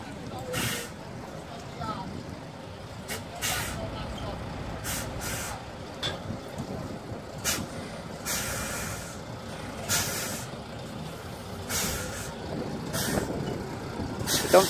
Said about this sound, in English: Makes it difficult for the lorries to get in.